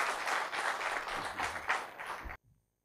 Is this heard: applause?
yes